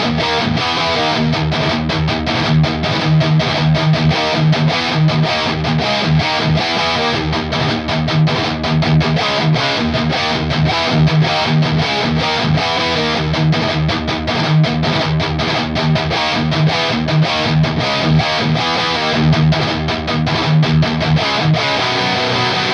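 A heavily distorted electric guitar through the Amplitube 5 amp simulator plays thick, sustained chords and riffs, loud and dense throughout, with no voices.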